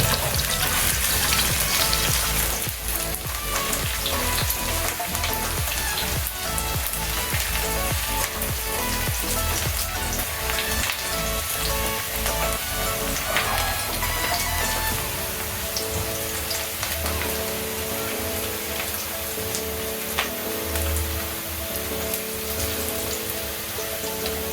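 Onions frying in a pan toward golden brown for vegetable fried rice give a steady, loud, even sizzle with no pause, close up and with no talk over it.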